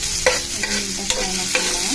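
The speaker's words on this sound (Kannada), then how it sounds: "ಇವಾಗ ಎಣ್ಣೆ ಕಾಯ್ದಿದೆ, ಇದಕ್ಕೆ ಹಸಿಮೆಣಸಿನಕಾಯಿ ಹಾಕ್ಕೊಂಡು ಸ್ವಲ್ಪ ಫ್ರೈ ಮಾಡ್ಕೊಳ್ಳೋಣ" Green chillies fry in hot oil with a loud close sizzle, and rhythmic spatula stirs scrape the pan about four times.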